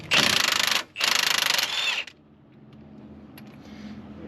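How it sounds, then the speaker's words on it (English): Front strut bolts and nuts being loosened with a wrench on a first-generation Chrysler 300M, two loud bursts of rapid ratcheting followed by quieter scattered metallic handling and clinks. "we're going to go ahead and continue on taking out these two bolts and nuts"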